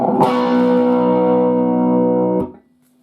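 A single distorted electric guitar chord rings out loud and sustained in a hard rock style, its heavy overdriven tone held for about two seconds before being cut off, with no voices.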